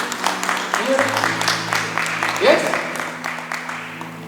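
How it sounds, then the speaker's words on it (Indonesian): A congregation at a Sunday worship service claps for God, a steady patter of many hands under sustained music tones, with voices calling out over the applause. "Tepuk tangan untuk Tuhan."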